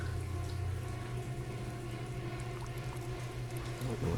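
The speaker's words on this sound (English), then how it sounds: "It's raining." Steady rain-like hiss and patter fills a haunted attraction, a constant wet wash with a low hum beneath, even and moderately loud from start to finish with no voices.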